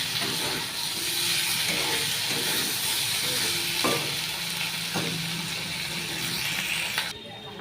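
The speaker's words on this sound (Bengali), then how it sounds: "ভালো করে এবার কষিয়ে নেব।" Vegetables sizzle and hiss as they are sautéed in a pan, with a steady loud fry and occasional stirring scrapes and knocks.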